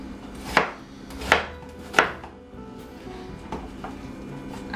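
A food chopper pulses through rough-cut zucchini and a garlic clove: three sharp, loud chopping bursts in steady rhythm, followed by a couple of softer hits. No one speaks.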